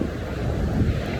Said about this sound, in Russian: То есть очень большие волны накатом.